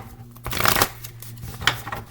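Deck of tarot cards being shuffled by hand, a couple of soft riffling bursts with papery rustling, close and moderately loud, no talking.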